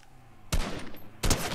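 Gunfire in the video game Fortnite: two short bursts of rapid shots, each opening with a sharp crack and fading with a rattling tail, fairly close, with no talk over them.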